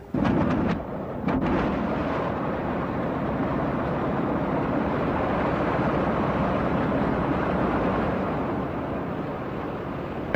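Three BMW radial engines of a Junkers Ju 52 catch after a few sharp starting pops, then settle into a loud, steady rumbling drone that holds throughout.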